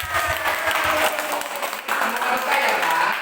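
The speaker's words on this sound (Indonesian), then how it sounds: "Tepuk tangan." Audience applause at a Sunday morning children's gathering, a dense steady patter of clapping filling the room throughout, with a brief dip near the middle before continuing strongly.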